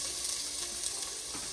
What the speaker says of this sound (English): All right, I'm gonna throw some onions in there